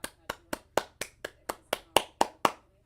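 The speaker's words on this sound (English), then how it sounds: "Clap it up for a break even." One person clapping nearby at a brisk, regular pace, around ten crisp hand claps in under three seconds, each cleanly separated with a short ring-out.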